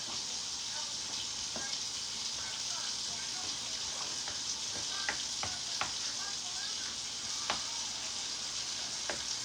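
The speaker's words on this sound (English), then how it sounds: "I'm going to stir that up." Food sizzles steadily while being stirred in a hot pan, with scattered clicks and scrapes of the utensil against the pan over a constant frying hiss.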